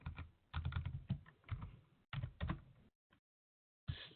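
A Linux command being typed on a computer keyboard: quick bursts of close key clicks with short pauses, then a final keystroke after a brief silence.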